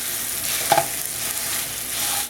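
Ground beef for lasagna fries in a pan, a loud steady sizzle close up with one brief knock of stirring early on, ending abruptly.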